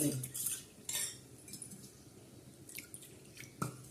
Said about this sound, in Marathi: चमच्याने असं चांगलं पातळ ग कालून घ्यायचं